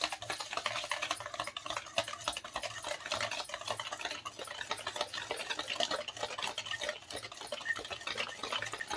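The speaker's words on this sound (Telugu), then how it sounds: "ఉండలు లేకుండా కలపాలి." A spoon briskly stirs sugar into cake batter in a bowl, making fast, rhythmic scraping and tapping strokes, close and continuous with no talking.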